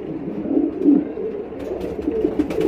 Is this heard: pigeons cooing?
yes